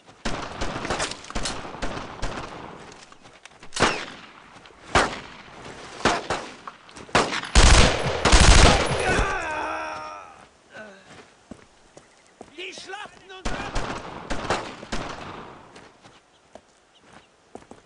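Suppressing machine-gun fire rings out in the World War II shooter Brothers in Arms: Road to Hill 30. Loud, rapid bursts come in clusters, heaviest in the middle, with quieter shots and battlefield clatter between them.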